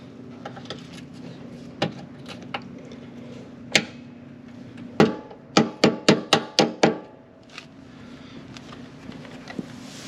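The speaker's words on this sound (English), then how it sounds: "we just persuaded it on there with the rubber hammer." Rubber hammer tapping a mount onto a pin while installing mini floor boards: scattered single knocks, then a rapid run of six or seven close, loud blows in quick succession, fading back to light taps.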